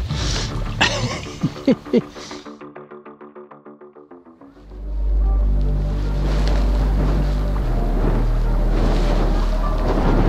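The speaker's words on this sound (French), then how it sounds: "il y a un peu de vent" Wind buffets a microphone at a carp fishing spot, starting as a steady low roar about halfway through and holding loud and continuous, preceded by a short run of rapid clicks.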